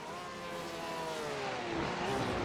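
A Porsche GT3 race car in a racing video game dropping through the gears, its engine note sliding downward in a sustained blare that rises and falls as the revs drop, heard alone.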